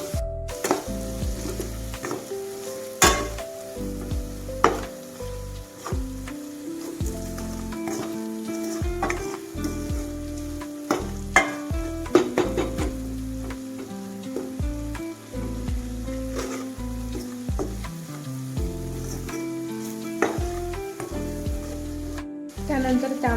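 Chili powder sizzles and fries in a hot pan for a Maharashtrian village meal, a steady close crackle with clinks and stirring scrapes throughout and no talking.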